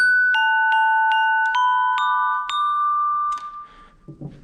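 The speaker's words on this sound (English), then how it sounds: "Glockenspiel." A glockenspiel plays a bright, ringing run of about eight struck metal bar notes at a steady pace, each strike sharp and sustained, ringing alone with a soft rustle at the end.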